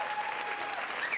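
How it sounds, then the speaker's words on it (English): Spectators at the Imola circuit applaud the marshals during a Lamborghini Super Trofeo Europe race, a continuous, fairly distant wash of many hands clapping at an even level with no voices standing out. "round of applause there for the marshals"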